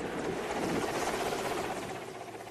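A helicopter in flight churns out a dense, steady roar of rotor wash and engine noise, moderately distant and fairly even, with no voices over it.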